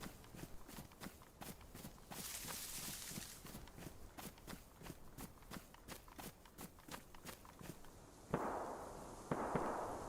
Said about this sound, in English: Oh, some shots in the distance.